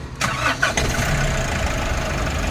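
A Nissan NV350 van engine cranks briefly and catches, settling into a steady, loud, close idle rumble.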